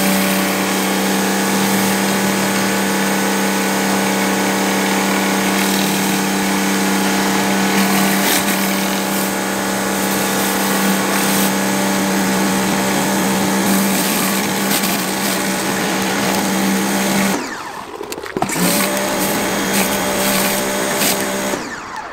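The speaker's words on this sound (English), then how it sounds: "this power washer is really quiet" An Ava Go P55 portable power washer runs steadily at close range with a constant motor whine and spray hiss, briefly dipping and changing near the end.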